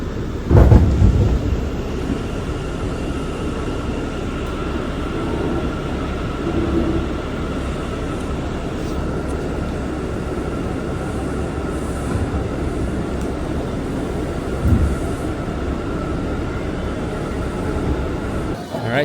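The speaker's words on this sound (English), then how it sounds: "I just got on a train and hope for the best." A New York City subway train rumbles along with a steady low roar and a faint tonal whine, punctuated by a couple of louder clunks, with muffled voices occasionally beneath the noise.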